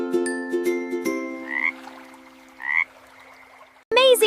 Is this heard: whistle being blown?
no